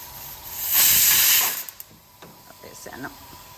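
A pressure cooker whistle gives one loud, sustained steam hiss lasting about a second, then cuts off abruptly. Tamarind is cooking inside. A few faint clicks and a voice follow in the quieter tail.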